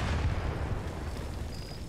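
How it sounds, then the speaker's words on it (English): Grenade explosion in a military shooter game, a loud deep boom with rumbling that fades over about two seconds, no talking. "grenades still sound like barrets"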